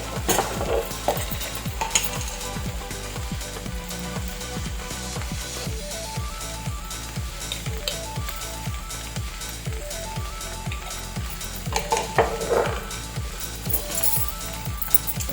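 Okra (bendakaya) curry with chili powder being stirred in a pan, a steady rhythmic scraping of the spoon against the pan over a continuous soft sizzle, close and fairly quiet, with no talking.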